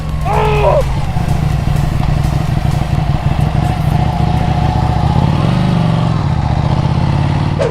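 A Ducati Panigale 899 sportbike runs on the road, its engine a loud, steady close-up drone with a brief rise in revs midway, and a voice cuts in faintly at the start.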